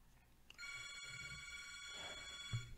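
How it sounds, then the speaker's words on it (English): A telephone rings steadily for about two seconds in a comic book shop during a live sale, its bright electronic trill sounding at moderate loudness over faint room noise. "Just answer the phone, somebody."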